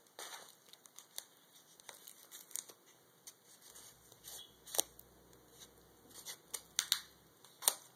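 Tape is peeled and torn off the packaging of a custom knife blade in close, crisp crinkling bursts and sharp rips that grow denser toward the end, over a quiet background.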